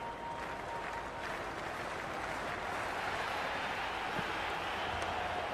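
Steady applause and crowd murmur from a cricket stadium during an India vs South Africa one-day international in Cricket 26, a continuous wash of clapping with no voices on top.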